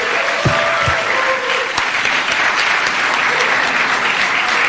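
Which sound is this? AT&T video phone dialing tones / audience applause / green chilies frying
audience applause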